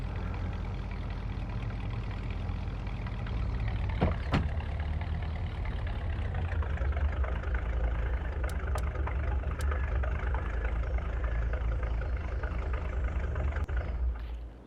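A blue Valtra tractor in the video game Farming Simulator 22 idles with a steady, low diesel rumble, continuous and fairly loud, with a few faint clicks over the drone.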